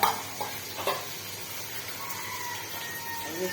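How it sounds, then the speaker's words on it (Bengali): Soft fish-frying sizzle in a pan, steady and fairly quiet, with a few brief stirring scrapes near the start. "এখানে মাছ ভাজা"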